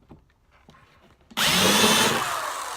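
A power drill with a countersink bit bores into pilot holes in a wooden bookshelf, a loud sustained whirring grind starting abruptly after quiet handling sounds and running steadily to the end.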